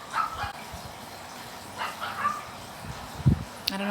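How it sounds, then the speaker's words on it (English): Faint, distant dog barks and yips over a quiet room background, with a slightly more distinct bark near the end and no one talking. "who dog is that, but they need to hush"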